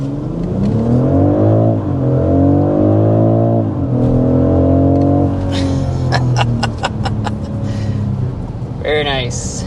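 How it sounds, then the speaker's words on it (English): A BMW X3 M50 engine revs hard under full acceleration, its rising harmonic whine climbing and dropping through gear shifts, loud and close, followed by a brief sharper rev near the end. "But first let's start with a hard acceleration."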